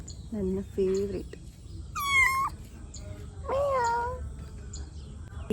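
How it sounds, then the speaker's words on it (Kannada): A small kitten gives several short, high, wavering meows in separate bursts over soft background noise, close and clear with no talking over it. "ಈ ನಮ್ಮ ಬೆಕ್ಕಿನ ಮರಿ, ಕ್ಯೂಟ್ ಕ್ಯೂಟ್ ಬೆಕ್ಕಿ."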